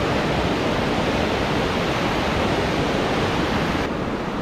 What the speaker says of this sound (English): we're just about to cross a river.